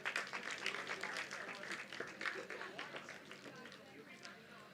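An audience at a university anniversary and University Day ceremony gives a round of applause for prize winners. Clapping is scattered and moderately loud, with voices murmuring and talking through it.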